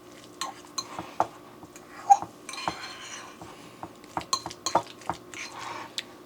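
A utensil scrapes and clinks against a bowl while seafood and mayonnaise are mixed, with irregular sharp taps and dull stirring knocks close by, quiet and without talk.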